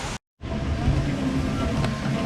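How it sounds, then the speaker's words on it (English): Running water at Animal Kingdom theme park, a steady broadband rush filling the clip after a brief dropout near the start, fairly close and continuous with no talk. "it's just the sound of water, which is coming from over there"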